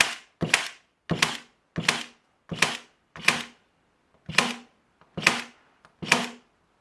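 A Kobalt 24V XTR cordless stapler fires staples rapidly into wood, eight sharp, close, loud snaps in a steady rhythm with a short pause partway through.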